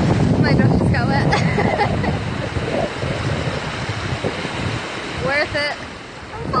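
Ocean waves wash onto a black sand beach in Hawaii, a loud surf rush with wind buffeting the microphone, while someone talks and shrieks over the water and the surge fades and swells.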